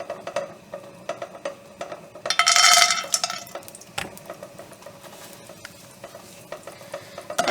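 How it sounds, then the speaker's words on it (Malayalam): Cashews roasting in melted ghee in a pan, a soft continuous sizzle under repeated scraping stirs of a spoon against metal, with one louder clattering stretch partway through. "കാഷ്യൂ ഇട്ടിട്ടൊന്ന് റോസ്റ്റ് ചെയ്തെടുക്കാം കേട്ടോ"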